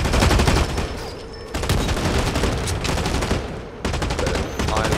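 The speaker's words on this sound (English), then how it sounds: "I love the sound this gun makes" Rapid gunfire from a gun in the shooter game Blacklight: Retribution, a steady loud stream of automatic shots with brief pauses, punchy and rounded, close and continuous across the whole stretch.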